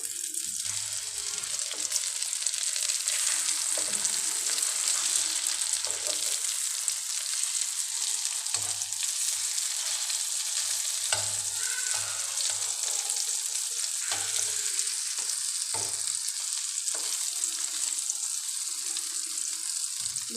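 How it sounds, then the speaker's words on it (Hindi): Chicken kababs fry in a pan of oil over medium heat, a steady close hiss and crackle lasting throughout, with occasional faint low knocks from the pan and no talk. "मीडियम आंच में फ्राई करना है।"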